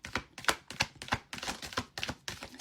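A tarot card deck shuffled by hand, a run of eight or so rapid papery riffles and slaps in a steady, slightly uneven rhythm, close and fairly loud with no talking.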